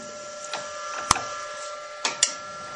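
A lathe on a variable frequency drive turns very slowly, giving a steady low hum with a few separate clicks and knocks spaced out as the spindle creeps around.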